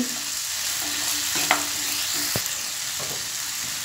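Boiled potato mixed with salt in a bowl for a potato omelette, a steady scraping and stirring hiss with a few sharp clinks of the utensil against the bowl, close and alone.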